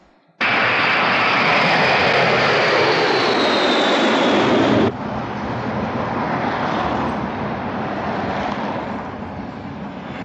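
An airplane engine on a flight to Tehran roars loud and steady, starting abruptly. It then drops to a slightly softer, sustained drone that continues to the end.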